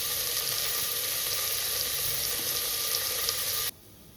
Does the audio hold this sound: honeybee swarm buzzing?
no